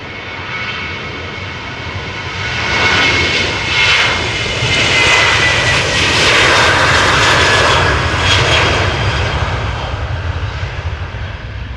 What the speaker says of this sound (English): Boeing 737-800, destination Malaga.